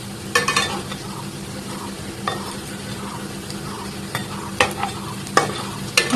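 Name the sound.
stirring and frying a sweet in a pan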